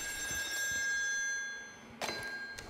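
A telephone rings in Still Wakes the Deep, a faint, thin electronic trill held steadily in the background, then a brief louder rattling burst near the end.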